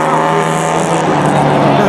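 A classic rally car, number 202, passes on a regularity stage at the 2016 Rally Maspalomas with a loud, close engine roar that holds steady throughout the brief moment.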